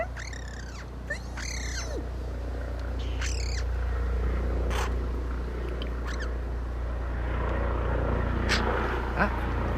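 A pet bird gives several short chirping calls over a low steady indoor hum, with soft human voices in the background.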